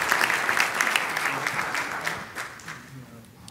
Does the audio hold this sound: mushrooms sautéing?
no